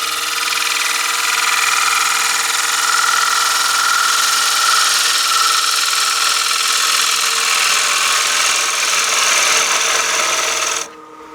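A bowl gouge takes a light, controlled cut into a wooden bowl spinning on a lathe, giving a steady, loud, hissing scrape that runs unbroken for about eleven seconds before stopping abruptly near the end.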